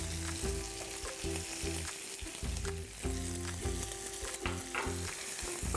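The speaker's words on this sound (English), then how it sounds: "Cook the onion for another 2 to 3 minutes." Sweet Maui onion and garlic fry in a pan for fried rice, a steady close sizzle with occasional stirring scrapes and no talking.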